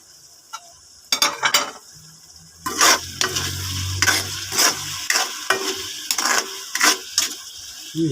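Pork adobo sizzles in a pan while a utensil stirs it, giving repeated sharp scraping clatters over a soft frying hiss, close and unaccompanied by speech.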